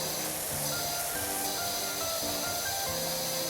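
A continuous, loud spraying hiss from a cleaning sprayer blasting grime in a video game, steady and unbroken from start to finish.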